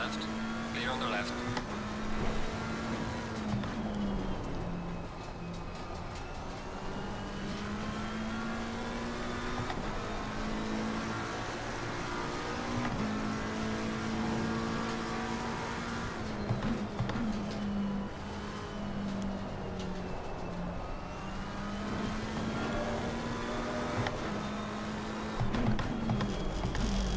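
A Chevrolet Camaro GT4 race car laps Brands Hatch, its engine droning steadily in-cabin with rising and falling pitch through shifts and corners, while a voice talks over the radio.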